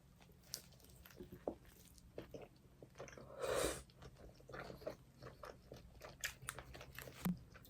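Close, wet chewing and biting on an In-N-Out burger and fries during a mukbang meal, with repeated crunchy bites and mouth sounds, including one louder burst midway, with no talking.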